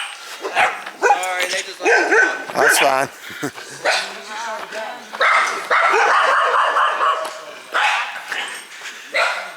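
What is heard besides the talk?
dogs barking in a campground cabin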